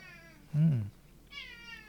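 A house cat gives a loud, close meow, then a softer second meow after a short pause, with faint room tone between them.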